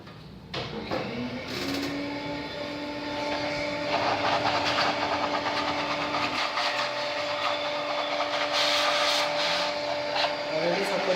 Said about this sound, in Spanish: Ahora limpiamos la fuente de poder, le retiramos esa suciedad también con el trapo y también lo vamos a soplar.